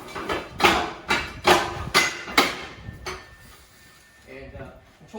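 A firefighter strikes a door with a tool during forcible entry, giving a run of six sharp, loud metallic bangs at a steady pace, then quieter clatter near the end.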